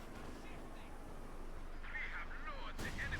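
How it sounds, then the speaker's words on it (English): An incendiary artillery barrage in the video game Company of Heroes 2 lands as faint, distant thumps under quiet battlefield noise, with one sharper burst near the end. "Incendiary barrage is being called in there."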